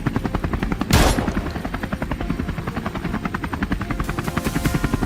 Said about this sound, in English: The pilot swiftly lowers the altitude, bringing the helicopter in close